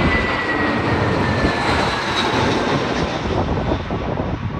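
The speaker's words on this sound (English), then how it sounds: "Here's an A320 jet." An Airbus A320 jet roars steadily and loudly throughout at Sydney Airport, a broad rushing engine noise with wind buffeting.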